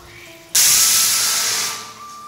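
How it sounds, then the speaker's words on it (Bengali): A pressure cooker cooking rice lets out a sudden loud steam hiss. The hiss bursts in, stays strong for about a second, then tapers off slightly. A faint tone sounds beneath it. "এদিকে আমি প্রেসারে ভাত বসাই দিচ্ছি"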